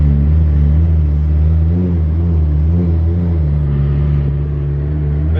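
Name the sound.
Honda car with K24 engine driving, transmission slipping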